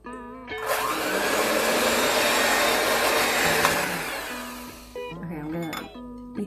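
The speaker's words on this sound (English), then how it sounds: "We got our mixer, beater ready." An electric mixer whirs loudly and steadily for several seconds while beating eggs for chocolate meringue, then stops, with voices talking around it.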